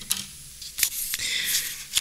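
Small plastic rivet pieces pried out of an Asus VivoBook S200E laptop during keyboard removal, giving a few sharp close snaps and clicks spaced apart, with faint scraping between them and no talk.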